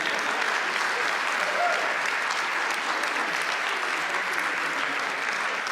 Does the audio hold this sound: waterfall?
no